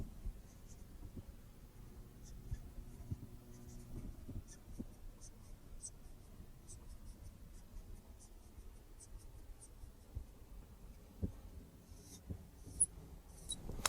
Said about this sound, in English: So if I wanted to, I could write a truth table